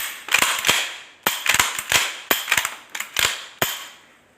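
Gunshots fired one after another as a new round is chambered before each: sharp, close cracks in uneven clusters, roughly eight to ten in all, with brief mechanical clicks between them and no talk.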